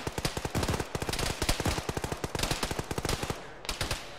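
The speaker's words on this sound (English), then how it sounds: "There are people shooting from low east." Rapid automatic gunfire in the video game Arma, dense bursts of close, loud shots in quick rhythm, with a brief pause near the end before a last burst.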